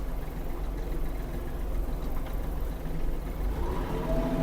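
A Kubota GL-320 mini tractor reverses with a steady low engine drone, close and even throughout, with no talk over it.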